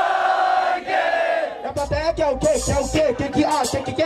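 Rap battle crowd erupting in loud shouts and cheers in response to a verse, starting after a brief quieter stretch of music and then staying dense and rowdy to the end.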